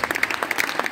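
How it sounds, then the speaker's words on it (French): Concert audience applauding musicians at a Saint Patrick's show, a short burst of crowd clapping with distinct claps standing out, moderately loud. "On peut vraiment les applaudir."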